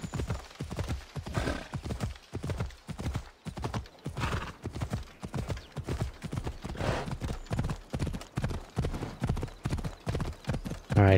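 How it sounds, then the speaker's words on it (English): Steady, rhythmic clip-clop of horse hooves trotting close by in the video game Assassin's Creed Odyssey, continuous and even throughout, with a brief whinny near the end. "Yeah, horse, yeah."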